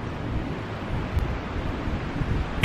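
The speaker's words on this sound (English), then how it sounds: "it's windy and cold" Cold wind blowing outdoors on a snowy day, buffeting the microphone in a steady broadband roar with small gusty swells, close and constant, without talk.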